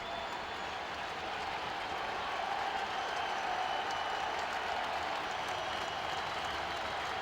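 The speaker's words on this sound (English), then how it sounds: "The crowd stands in support of Leiter." A stadium crowd at a Mets World Series game in 2000 roars and claps in a broad, steady wash of distant cheering that holds at an even level throughout.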